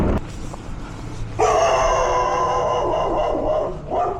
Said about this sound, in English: I was kind of scared that dog was gonna come after me, but then I just realized he was just a barker